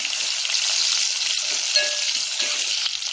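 Onions and green chillies sizzle steadily in hot oil for a Telangana mutton curry, with a constant bright frying hiss and a faint clink of stirring partway through.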